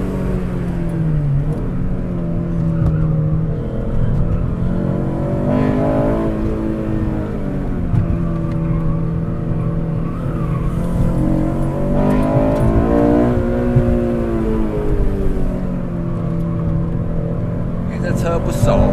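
A car winds along the Beiyi mountain road in Taiwan at a moderate pace, its engine humming steadily inside the cabin and rising and falling gently while people talk over it.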